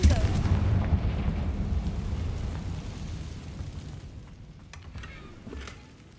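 A Confringo spell explodes in Hogwarts Legacy, a loud broad boom that rolls and slowly fades, followed by a few faint crackles and a small later burst.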